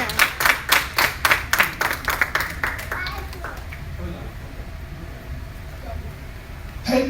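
Audience in a worship center at a health fair and book signing claps in a quick, regular rhythm for about three seconds. The clapping then loosens into fainter scattered claps over a hushed room, with one sharper burst at the end.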